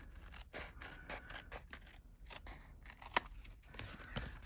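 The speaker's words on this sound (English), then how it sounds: "Let's just trim off around that bit a bit more." Scissors trimming around a DTF sticker in repeated short snips and scraping cuts, close and quiet, with one sharp click partway through.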